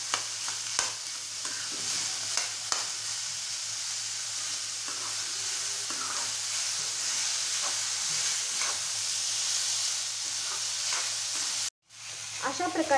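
Chopped onions fry in oil while being stirred in a pan for aloo paratha, a continuous close hiss of sizzling with occasional spatula scrapes and taps, cut by a brief pause near the end before the sizzle resumes.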